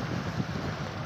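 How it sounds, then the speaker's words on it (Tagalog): Wind blows at a seashore in a short, steady rumbling gust that buffets the microphone at a moderate level, with no talking. "Mahangin sa labas guys."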